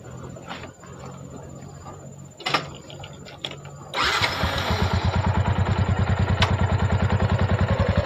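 A motorcycle engine turns over partway through and catches, then settles into a steady, rapid idle close by, after a few quieter clicks and knocks.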